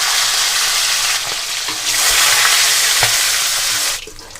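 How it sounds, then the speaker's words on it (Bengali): Pieces of pakal fish fry in hot oil, a steady loud sizzle that holds across the clip and drops away sharply near the end, with a few soft clinks of a utensil. "মাছগুলো এক একটা করে দিয়ে একটু ভেজে নেব"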